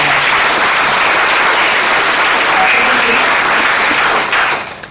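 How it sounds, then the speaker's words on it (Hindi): Loud, sustained applause from an audience at a business seminar fills the room, a dense wash of clapping that holds steady for several seconds before tapering off at the end. "जोरदार ताली हो जाए"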